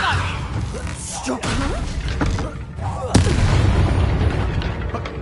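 The Bombarda blasting spell bursts with a sharp, loud boom in the fantasy game Hogwarts Legacy. It lands among rumbling combat effects and voices, with smaller crackling hits before it.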